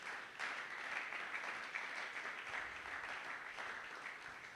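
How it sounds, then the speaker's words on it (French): A church congregation applauding during a Sunday worship service, steady, sustained clapping from a large crowd, fairly distant and even throughout. "Est-ce qu'on peut acclamer très fort pour la gloire de Jésus?"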